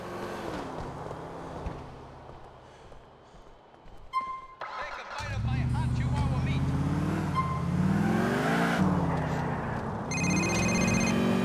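A cop car engine in Grand Theft Auto IV rumbles and revs, swelling louder midway and holding a steady drone with rising and falling pitch, while a phone ringtone chimes and a voice talks over it.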